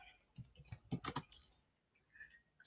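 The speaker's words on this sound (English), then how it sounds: "As usual, we're going to type into Canva" Soft, close clicks of a computer keyboard as a short phrase is typed into Canva, a quick cluster of keystrokes followed by a pause and a few faint taps.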